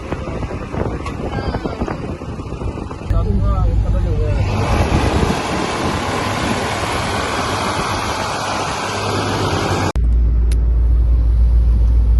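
A Ford tractor rumbles loudly and steadily while riding down a village lane, its engine drone and road noise filling the scene as people talk nearby.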